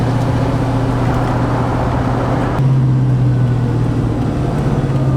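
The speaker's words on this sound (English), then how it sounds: "that blower has a nice little sound to it" Supercharger blower on a 700hp blown 2V Mustang engine while driving, a steady close whine and engine drone that shifts slightly in pitch partway through over constant road roar.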